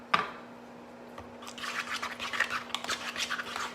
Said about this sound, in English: I'm going to stir that together